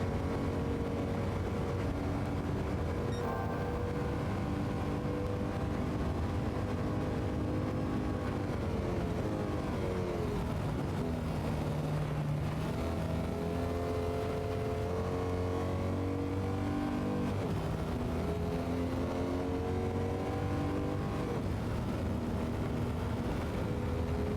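A 1958 C1 Corvette engine in a racing video game drones loud and continuous through laps, revs rising and dropping with gear changes and sweeping pitch shifts through corners, alone without talk.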